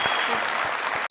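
Brief burst of audience clapping at a shayari recitation event, steady and close, cutting off abruptly at the end.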